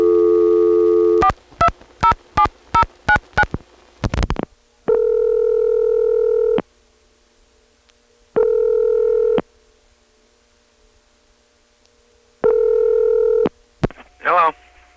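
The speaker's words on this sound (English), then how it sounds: "Here's a same office example dialed from the Farmingdale, Long Island Crossbar 5 to a 420 number." Steady dial tone on a line served by a Crossbar 5 exchange in Farmingdale, Long Island, then a quick run of dialing bursts and a cycle of loud ringback tones as a same-office call goes through, with a brief voice at the end.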